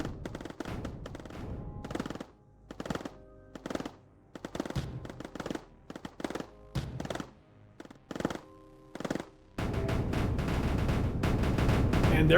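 Rapid gunfire from turrets being destroyed in the video game Mindustry, with bursts of machine-gun shots separated by short gaps, then a continuous heavy roar of fire at the end.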